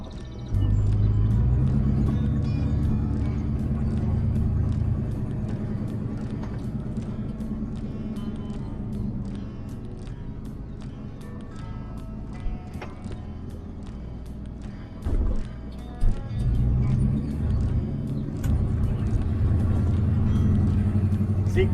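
A 1961 Chrysler Newport driving, heard from inside: steady low engine rumble with gear and road drone, interior rattles and clicks scattered over it, a few knocks near the end, continuous and moderately loud with no talk.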